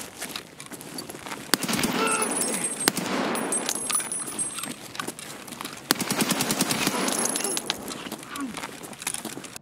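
Rapid automatic gunfire in the shooter game Escape from Tarkov aimed at a BTR armored vehicle, bursts of sharp reports repeating over several seconds, with someone talking over it.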